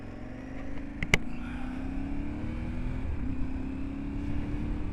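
Motorcycle ridden at about 30 to 35 miles per hour with heavy wind buffeting, a steady droning engine and rushing wind roar throughout, with one brief sharp knock near the start and no talking.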